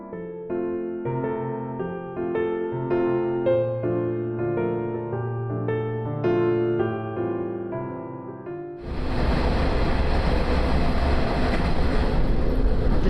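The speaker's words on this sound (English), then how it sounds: "The oncoming train is probably a local train bound for Yamaguchi." An oncoming local train on Japan's Yamaguchi Line rushes past, arriving abruptly as a loud, close, steady roar of rolling noise that takes over from music and fills the last few seconds.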